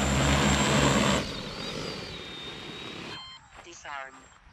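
Drone with a Pixhawk Cube flight controller on a fully automatic landing, a loud propeller whine that drops in pitch and fades as the motors spin down, with a voice speaking near the end.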